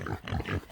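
Pigs grunting and snuffling in a rooted-up paddock, several low rough grunts in quick succession, close and fairly loud, with no talk over them.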